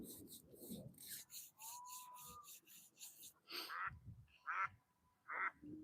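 Duck mating calls ring out outdoors, a run of raspy, rhythmic quacking bursts near the start followed by several louder, separate quacks toward the end, with no talking.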